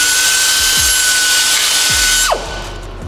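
Power tool cutting a chamfer radius into a part for a Tesla-swapped Mercedes G-wagon convertible monster truck, a loud close steady whine that spins down after about two seconds.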